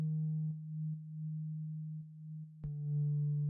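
A low sub-bass synth tone playing steadily from a Logic session, a pure sustained hum with faint clicks where the notes change, and no talking.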